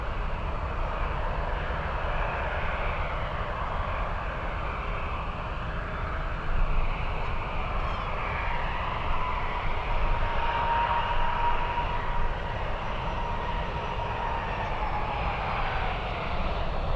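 An Alaska Airlines airliner bound for Seattle from San Francisco airport produces a steady, distant engine rumble and whine, swelling slightly in the middle and continuing evenly for the whole stretch.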